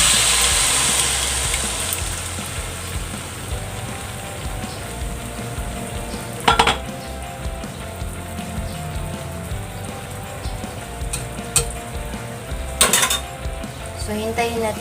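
Vegetable egg omelette mixture cooking in hot butter in a pan gives a steady, dense sizzle throughout, with a few brief clinks of utensils. No one speaks.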